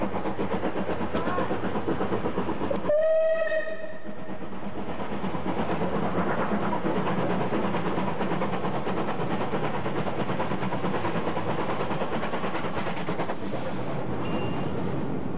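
A Southern steam locomotive hauling the Golden Arrow pulls a train away with a steady, loud rumbling chuff. A short whistle cuts in near the start, and the engine keeps running without a break to the end.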